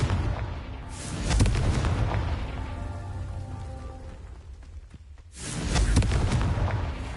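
Two heavy Confringo blasting-spell explosions in Hogwarts Legacy burst out a few seconds apart, each a booming impact that trails off into a rumbling, crackling decay.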